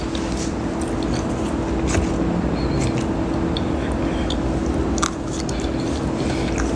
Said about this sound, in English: So y'all don't just hear me chewing